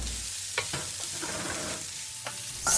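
Minced ginger and garlic frying in oil in a pan, giving a steady close sizzle with a few light stirring scrapes on top, alone without any voices.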